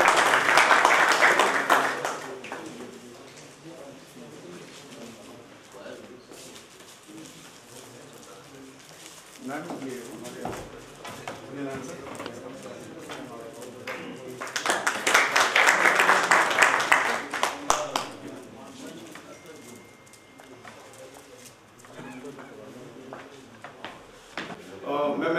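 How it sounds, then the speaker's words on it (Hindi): An audience at a real estate seminar bursts into loud applause twice, a dense clapping wave at the start and a longer, fuller one in the middle, with someone speaking between and around them. "एक बार जोरदार तालियां सभी लोगों को चाहिए।"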